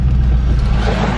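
Ford Mustang 5.0 Coyote V8 running with exhaust cutouts open, a loud, close, deep rumbling drone that holds steady through a brief stretch.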